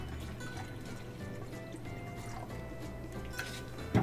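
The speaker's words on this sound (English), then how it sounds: "add water until it's totally full." Water poured into a plastic bag until it is completely full, a quiet continuous trickling and gurgling with small drips, faint and close, ending in a brief louder splash.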